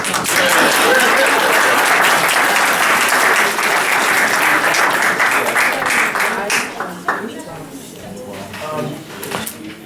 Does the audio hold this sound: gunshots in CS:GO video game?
no